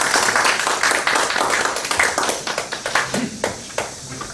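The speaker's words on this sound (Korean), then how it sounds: "큰 박수로 모시겠습니다" Applause rises from the audience at an academic forum, loud, dense clapping at first that thins into scattered individual claps before fading.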